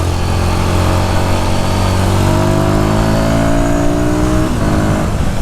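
Royal Enfield Guerrilla 450 motorcycle accelerating hard, with the engine pitch climbing through gears shifted without the clutch and a steady loud roar throughout.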